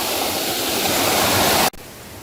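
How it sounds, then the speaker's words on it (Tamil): Steady rushing water of a monsoon-swollen stream on a trek in the Chinna Suruli foothills roars loudly and continuously, then cuts off abruptly near the end, leaving a softer wash. "அதனால இவ்வளவு தண்ணி ஓடுது."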